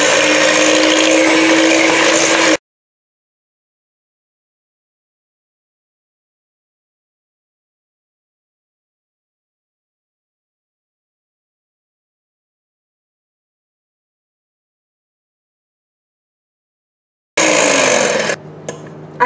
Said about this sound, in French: Et maintenant, je vais bien mélanger.